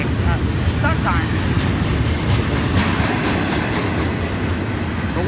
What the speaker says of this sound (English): the daily hotshot train from Bowden Yard in Jacksonville to see Port Seawall in Miami